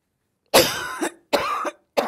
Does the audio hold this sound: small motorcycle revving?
no